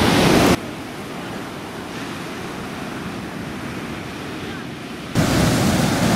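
Hawaiian ocean surf roars on the shore as a broad, heavy rush, loud bursts at the start and end with a steadier wash between, mixed with some wind buffeting on the microphone.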